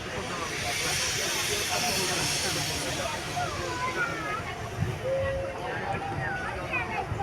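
A steam locomotive with a tender hissing steam at an outdoor rail event, a loud continuous broadband hiss with a voice talking over it.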